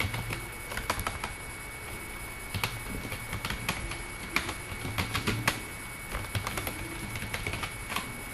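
Keystrokes on a computer keyboard while text is typed into a shape in MS Word, an irregular run of light clicks in bursts across the whole stretch, close and fairly quiet over a low steady hum.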